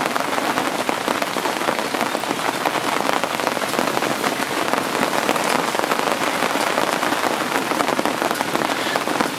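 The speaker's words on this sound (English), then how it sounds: "that's the rain hammering down" Heavy rain hammering down outdoors on an island while fishing, a dense, loud, continuous patter of drops striking surfaces, close and constant throughout with no voices.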